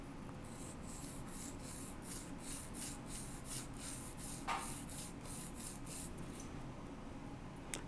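Enamel lightly rubbed with a fine-grit flat sanding stick, a quiet, close rhythmic scratching made of repeated short back-and-forth strokes at an even pace.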